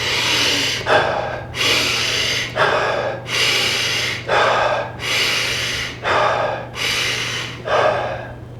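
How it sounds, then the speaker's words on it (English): Deep, forceful Wim Hof method breaths close up, long rushing inhales alternating with shorter exhales in a steady rhythm, repeated about seven times over a faint low hum. "the breathing is a deep breath in, you release it, deep breath in, you release it"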